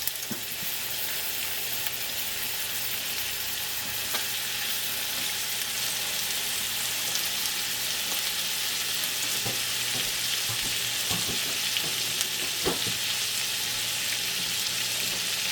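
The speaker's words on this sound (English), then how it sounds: "I'm going to put in our pork chops" Pork chops searing in butter in a pan, a steady loud hiss of frying that holds throughout with scattered pops and crackles, close up and with no talking.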